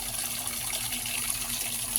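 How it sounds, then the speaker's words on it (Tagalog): Water pours steadily from a water pump outlet, a continuous, fairly close rushing flow with no breaks and no voices over it. "Yung pinagkukunan ng tubig. Yan o. Flowing lang siya."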